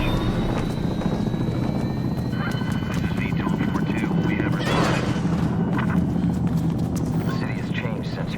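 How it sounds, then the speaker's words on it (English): VTOL aircraft flying in during Mirror's Edge Catalyst gameplay, a constant heavy rotor-like drone with a mid-clip surge, heard beneath voices talking. "The VTOL just flew in."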